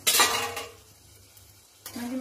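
Chicken tehari pilaf made with Gobindobhog rice is stirred in a pot, giving a scraping clatter of spoon against metal that is loud at first, fades, then returns briefly at the end, with no talk.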